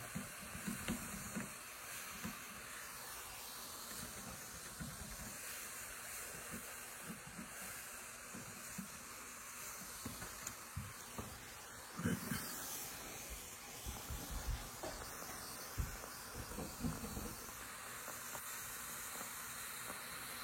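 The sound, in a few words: steam cleaner hissing hot steam to remove sap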